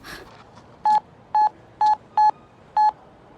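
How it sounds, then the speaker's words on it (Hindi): Five evenly spaced telephone keypad tones dialing a number, each a short clear beep with brief pauses between, fairly quiet against a faint background hum. "उसे एक बार फोन लगाओ तो।"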